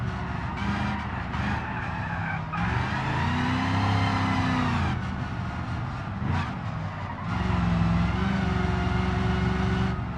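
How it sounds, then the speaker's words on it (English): A car racing along a freeway in the BeamNG driving game, its engine revving up and down with rising and falling pitch and tyres skidding and squealing, loud and continuous without a break. "we got a car right here that I hear"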